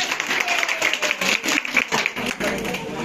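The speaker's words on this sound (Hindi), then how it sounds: "मेरी तरफ से एक बार जोरदार ताली बजाएं आप सभी।" Audience at an event clapping loudly on request, a continuous busy patter of many hands for about three seconds, close and fairly loud.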